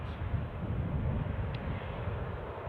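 An Air France airliner moves on the ground at Newcastle airport, its engines giving a steady low rumbling roar with a broad hiss, constant and fairly close, with no speech.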